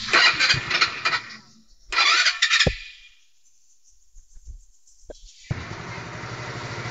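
A motorcycle engine cranks and sputters, cuts out, then catches and settles into a steady idle close by.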